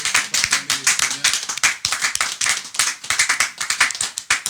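A church congregation applauding in praise of the Lord, dense rhythmic clapping from many hands, loud and close, continuing steadily for several seconds with no voices over it.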